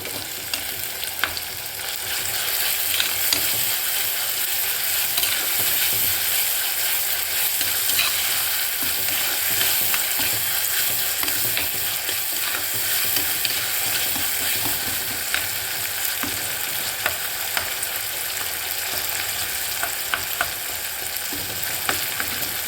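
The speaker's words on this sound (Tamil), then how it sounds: "அரைவாசி வதங்கிருக்கு இன்னும் கொஞ்சம் ஒரு அஞ்சு நிமிஷம் இருக்கட்டும்" Elephant foot yam sautés in sesame oil with a continuous, even sizzle and crackle. The sound stays close and steady throughout, with small pops scattered across it and no voices.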